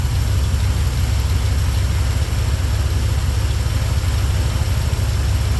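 A 1975 Corvette engine idling steadily just after carburetor adjustment, a continuous low rumbling drone with even pulsing throughout, close and loud, with no talking.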